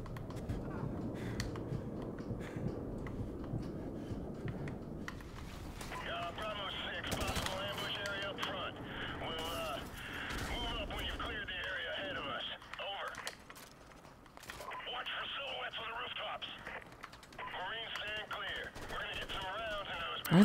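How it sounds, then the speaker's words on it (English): Rapid gunfire rattles at a tank in a modern combat shooter game, continuous bursts at a moderate level with a radio-like voice and in-game chatter running over the shooting. "What are they shooting the tank for?"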